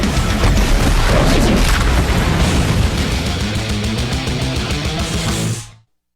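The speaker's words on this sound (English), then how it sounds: "I do love them explosions." Explosion sound effects for a trivia game's rapid fire round intro: a loud, continuous barrage of booming blasts and crashes for about six seconds, then a sudden cut to silence.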